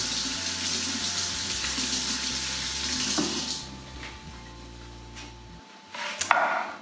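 Parsley rinsed under a running kitchen tap, a steady broad rush of water for about five seconds that then quiets, followed by a brief splashy burst near the end.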